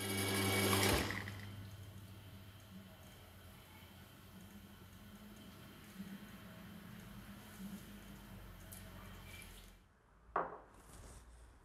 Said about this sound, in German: Bei 94 Grad läuft die Extraktion, 30 Sekunden lang.